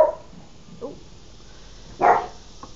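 A dog barks indoors: a short bark at the start, a softer yip, then a louder single bark, all fairly close against a quiet background.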